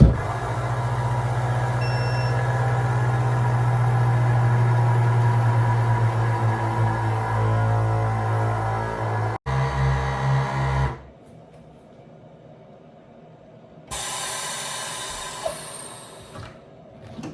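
A countertop vacuum sealer draws air from a freezer bag of fall vegetables with a steady loud motor hum, then cuts off, leaving near silence before a brief hiss as it releases.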